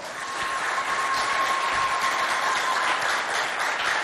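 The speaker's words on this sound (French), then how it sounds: "Si vous êtes contents, applaudissez-vous bien fort" A school audience at a contest between CEG de Koutou and CEG de Doumbeu in Moundou applauds loudly and continuously, a dense wash of clapping that holds steady throughout.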